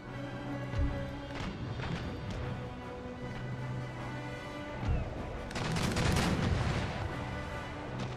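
Musket volleys crack out in the Empire Total War battle game, a few sharp reports early, then a dense rattling volley with heavy booming rumble near the end, over continuous battlefield and music-like background.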